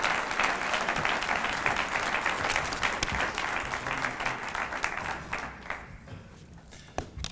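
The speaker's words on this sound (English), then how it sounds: "Please give him a round of applause as he comes to the stage." Sustained applause from a sizable conference audience, dense clapping that holds steady for several seconds before thinning out to a few scattered claps.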